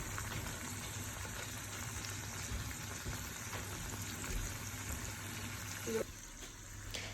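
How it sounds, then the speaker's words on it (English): Pre-cooked, defrosted prawns cooking in a pan of pasta sauce and oil, giving a steady low sizzle and bubbling throughout with a faint clink near the end. "I just put in some prawns and let that cook."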